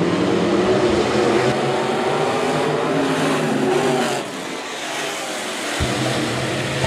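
KJ Automotive B-Modified race cars roaring through a six-lap heat race at Rapid Speedway, loud sustained engine drone from a pack of cars that eases slightly as they pull away.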